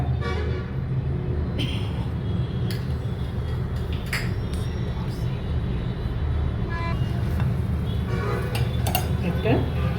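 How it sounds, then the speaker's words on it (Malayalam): A kadai set back on the stove with butter for paneer butter masala gives off steady low cooking noise, with intermittent metallic clinks of utensils against the pan throughout. "ഇനി വീണ്ടും കടായി വെക്കുക. അതിലേക്ക് ഏകദേശം ഒരു 1 ടേബിൾ സ്പൂണ്"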